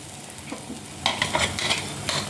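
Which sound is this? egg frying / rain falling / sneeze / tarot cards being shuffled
egg frying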